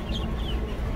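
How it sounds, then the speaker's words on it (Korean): Young chickens kept in a backyard give a few soft clucks in a brief, noisy, outdoor moment, faint against the background. "얘네들은 닭이 꼭 한 군데 모여 있는 것 같아"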